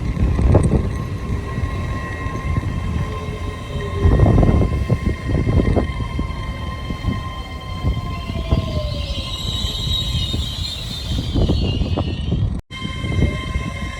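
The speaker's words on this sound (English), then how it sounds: "Departing out now is the 1337 Great Western Railway service from London Paddington to Penzance" At Swindon station, a Great Western Railway London Paddington to Penzance service, class 800 units 800 009 and 800 021, departs with a loud, steady engine rumble and rolling wheel noise, a brief tonal horn or whine and a sudden cut near the end.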